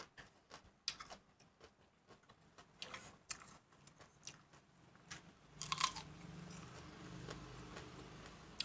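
Close, crisp crunching bites and chewing of sweet jujube fruit, irregular crackles over a quiet background, followed by softer steady chewing toward the end.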